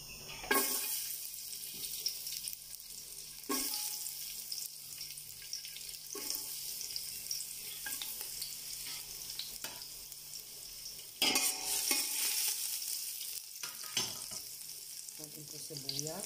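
Garlic sautéing in oil in a frying pan for bagoong fried rice: a low, steady sizzle broken by periodic stirring scrapes and clatters.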